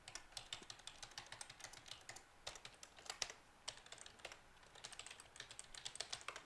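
Rapid, uneven clicking of a computer keyboard as someone types a network path while setting up driver import in ConfigMgr 2012, close and fairly quiet, continuing in bursts with brief pauses and no talking.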